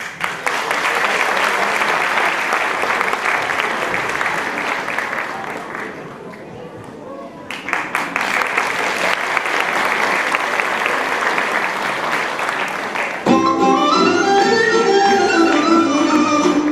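Concert audience applause for a young girl singer, dense sustained clapping from a large crowd that briefly thins mid-way, then swells again before a voice and music take over near the end.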